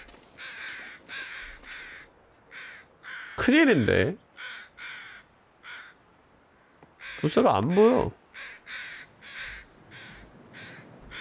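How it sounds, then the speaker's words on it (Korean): Two bursts of loud, harsh crow caws sound in a survival video game, each a quick cluster of rasping calls, while someone talks steadily in short phrases throughout. "오늘도 까마귀 소린 개시끄럽고요."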